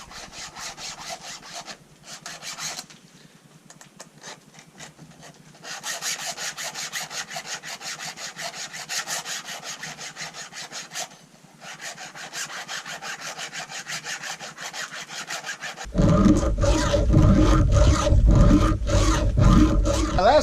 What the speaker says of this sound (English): sharpening the chainsaw blade